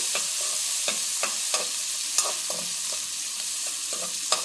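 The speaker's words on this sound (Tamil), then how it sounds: "வெங்காயம் நிறையாவே போடுறேன்." Onions sizzling in hot oil with mustard seeds and curry leaves, with a steady close frying hiss and regular spatula scrapes and taps, for bitter gourd thokku.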